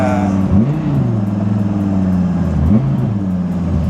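A Dodge Viper fitted with a GCC triple-disc clutch and a polyurethane transmission mount holds a loud, steady engine drone. Two sharp revs rise and fall near 0.6 and 2.8 seconds as the clutch engages, close and continuous with no talk.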